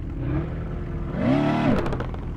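A 2023 Dodge SRT Challenger Demon in the video game Drive World revs hard for a wheelie, with a steady engine drone swelling into a rising, then falling rev and a few rattling clicks at the peak.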